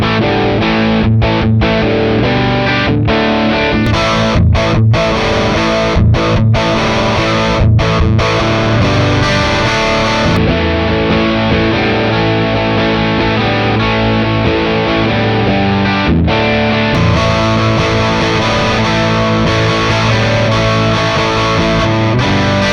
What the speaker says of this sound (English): The last preset cabinet we're going to check out is the Marshall 4x12 with greenbacks.